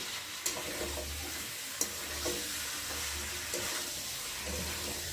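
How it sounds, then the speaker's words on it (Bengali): Chicken and potato sauté with spices in a pan, a steady, close frying sizzle with intermittent stirring scrapes and knocks and no talking. "এবার ভালোভাবে মশলার সাথে আলু চিকেনটাকে কষিয়ে নিলাম"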